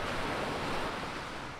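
Ocean surf washing onto a trash-strewn beach in Monrovia, Liberia, a steady broad rush of breaking water with a faint wind edge, continuous and fairly soft, no voices.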